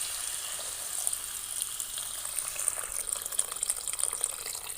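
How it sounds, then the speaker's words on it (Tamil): Water pours steadily into a pot of vegetables for kurma, a continuous gentle splashing and trickling that stays even and fairly quiet throughout. "நல்லா காய் முழுகிற அளவுக்கு நான் தண்ணி ஊற்றிக்கிறேன்"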